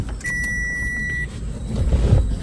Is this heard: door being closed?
no